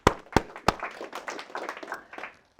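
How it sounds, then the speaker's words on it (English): A short burst of audience clapping opens with three sharp, loud claps, then settles into a lighter, scattered patter of hands that fades out within a few seconds at a morning program introduction. "Give yourselves a round of applause."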